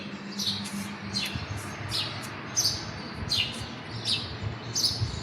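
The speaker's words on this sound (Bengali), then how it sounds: "শুনতে পাচ্ছেন পাখির আওয়াজ" Birds chirp at dawn with short, bright, repeated tweets about once a second. They sound moderately close over a soft, steady outdoor background, and no one speaks.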